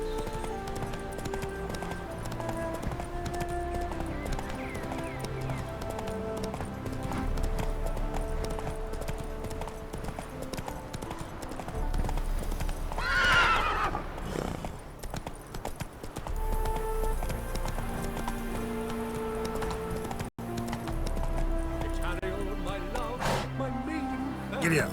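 A horse gallops in The Witcher 3: Wild Hunt, its rhythmic hoofbeats running steadily and close for most of the stretch over game music, with a brief rider's shout and some spoken dialogue.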